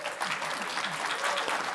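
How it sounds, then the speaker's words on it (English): An audience at a fantasy and horror literature festival panel claps steadily throughout, a dense patter of many hands at moderate distance. "If you're going to clap every time you introduce somebody, this is going to be fucking long"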